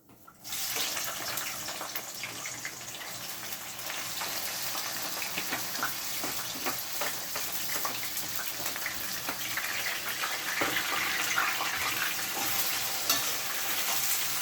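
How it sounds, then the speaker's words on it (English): Seasoning and cucumber sautéing in a pot for Jamaican tin mackerel, a dense, steady sizzle and crackle that holds loud and close for the whole stretch, no talking. "We're going to allow that to saute a little."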